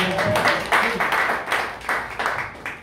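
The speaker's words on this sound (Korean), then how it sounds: "미친 이럴 때 박수 쳐주셔야죠." A lecture audience gives a short round of applause, uneven bursts of clapping swelling and fading in rhythmic pulses, with some voices audible among the claps.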